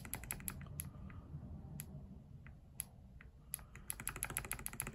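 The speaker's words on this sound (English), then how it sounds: "There is a light but noticeable click." NK Cream Clickies clicky mechanical keyboard switches typed on in bursts of sharp, crisp clicks. The pace is irregular with short pauses, close up, alone in a quiet room.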